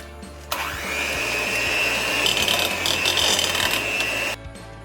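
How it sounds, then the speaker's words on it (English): An electric beater whips eggs into a rich Christmas fruit cake batter, a loud steady motor whine starting abruptly and droning evenly for about four seconds before cutting off. "Now I'm going to beat this well with the help of the beater."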